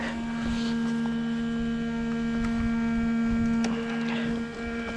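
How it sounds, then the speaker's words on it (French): An Opel car's electric cooling fan runs as a steady tonal hum and whir close by, continuous for several seconds with faint clicks and small bumps around it. "Ah, le ventilo il y va là."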